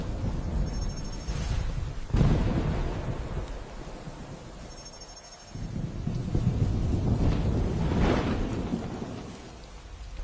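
Heavy rain pours steadily during a November storm, with deep rolling thunder rumbling loudly in two long waves over the constant downpour.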